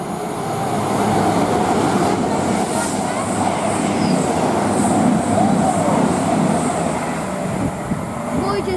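An Avanti West Coast Voyager train pulls away from Rugby station bound for Holyhead, a steady loud diesel rumble with rail noise sustained throughout, some faint squeal near the end and a voice speaking over it.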